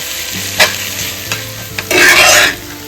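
Onion sautéed in a pan for a Kerala-style chicken roast, with a close, loud sizzle and a few sharp stirring scrapes, then a burst of hissing near the end, with no talking.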